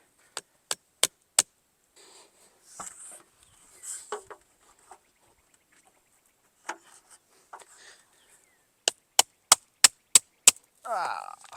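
Sharp wooden cracks and snaps of stakes breaking in quick bursts of four and five, with scattered splintering and shuffling noises between them, close by.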